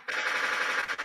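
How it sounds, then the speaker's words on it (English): A sound-effect burst of rapid gunfire plays loud and close, a dense rattling volley lasting about a second with no talk over it. "he gets the extra gunshots"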